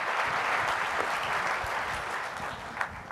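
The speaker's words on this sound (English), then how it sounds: "Big round of applause." Audience applause after a motivational talk, a steady broad wash of many hands clapping close and fairly loud for about three seconds, with no voices over it.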